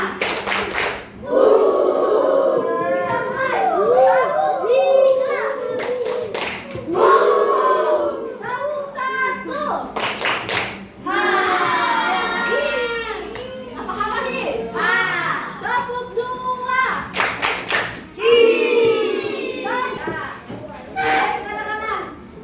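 Schoolchildren in a classroom doing a counted clapping game, bursts of sharp group claps recurring every few seconds between stretches of lively children's chanting and talk.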